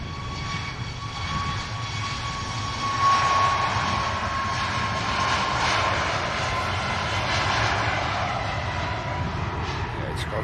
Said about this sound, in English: Ryanair lined up while we wait for the one of the newest aircraft to the fleet to touch down